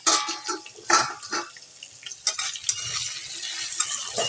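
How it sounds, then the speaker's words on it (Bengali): Fish frying in a pan after the lid is lifted, a steady sizzle with stirring scrapes and clinks of utensils against the pan, close and moderately loud, with no talking. "চলো চাপাটা খুলে দেখি কতটা কি হলো ভাজা"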